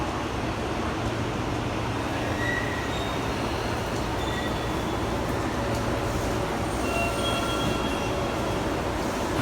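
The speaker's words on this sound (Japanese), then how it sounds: "日本橋駅に到着です。" A Tokyo Metro Tozai Line train arriving at Nihonbashi station, a steady rumble of rolling wheels with faint squeals and station ambience, heard at moderate distance with no clear talking.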